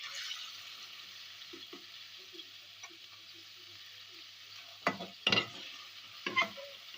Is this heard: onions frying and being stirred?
yes